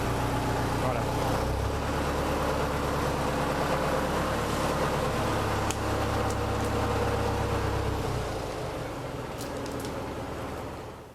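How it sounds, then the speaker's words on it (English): A tractor engine runs loudly and steadily at close range while lifting a down cow, a low rumbling drone with voices talking over it. "then we bring our tractor in and we pick the cow up"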